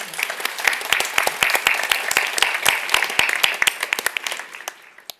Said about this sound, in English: Please give them a round of applause again as they walk off